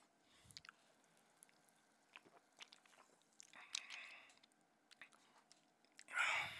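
Someone sipping and tasting a G Fuel Mega Man Blue Bomber slushee drink, with quiet close-up mouth sounds, small wet smacks and swallowing, and a louder burst of breath or slurp near the end.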